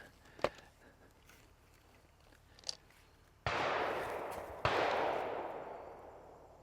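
CZ All American shotgun fired at sporting clays: two loud, close blasts about a second apart, each with a long ringing decay outdoors, preceded by faint clicks and handling sounds.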